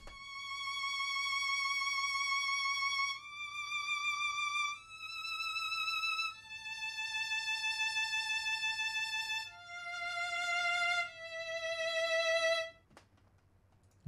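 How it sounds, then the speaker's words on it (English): A lone violin plays a slow legato line of long, sustained notes with gentle vibrato, moving stepwise between pitches and ending in a brief soft tail, clear and up close with no talking. "I also throw in a violin solo legato,"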